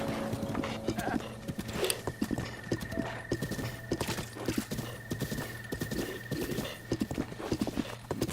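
A horse gallops in The Legend of Zelda: Breath of the Wild, rhythmic hoofbeats running steadily with an occasional whinny over a sustained game tone, with light talk mixed in.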